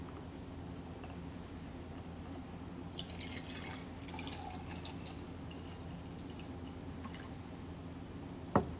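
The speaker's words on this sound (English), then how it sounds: "we are going to be putting clear or white vinegar on a raw egg" White vinegar is poured over a raw egg, giving a faint, close liquid trickle and splash that swells midway, followed by a single sharp tap near the end.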